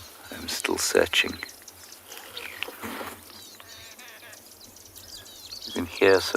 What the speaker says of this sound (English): You can hear some arrow-marked babblers as well.